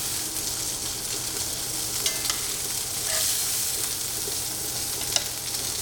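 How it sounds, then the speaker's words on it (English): Chicken sears on one side in a hot pan with a continuous, even sizzle at close range, broken only by a few faint crackles and one sharp pop near the end. "So we're only going to sear it on one side, like this."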